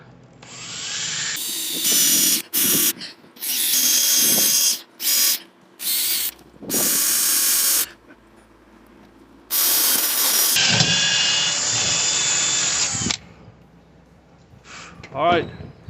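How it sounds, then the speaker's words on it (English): Holes drilled for bolts in a homemade beach wheelchair frame, loud bursts of a power drill starting and stopping in short and longer runs, with quieter handling noises between. "So I'm gonna start making the hole to put the bolts."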